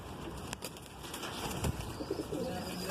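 Pigeons with blue feet and yellow eyelids in a loft give soft, low cooing with a few brief flutters and rustles against a busy background hiss.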